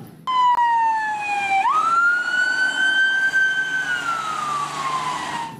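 A toy police car siren wails loudly and close, sliding down in pitch, then up, and holding a long rising-and-falling tone with nothing else over it.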